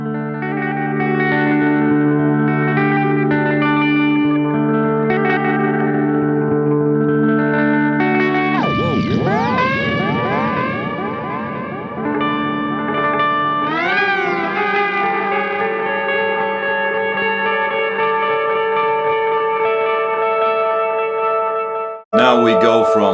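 An electric guitar played through a single effects pedal makes spacey, robotic noises: long droning tones, then swooping, pitch-bending sweeps, echoing and distorted, loud and continuous, with a sudden cut and burst at the very end.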